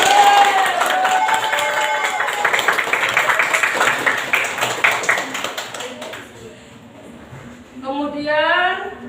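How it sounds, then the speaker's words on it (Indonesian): Classroom clapping from students during a religious lesson, a burst of scattered claps mixed with children's voices that fades, then a voice rises toward the end. "Ya, tepuk tangan."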